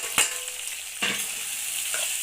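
Potatoes go into a hot pan for a sago (sabudana) dish, each addition giving a sharp hiss, three bursts in turn, settling into a steady close sizzle of frying with no talk.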